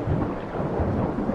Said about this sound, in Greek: Α, είμαστε έξω στη βροχή τώρα.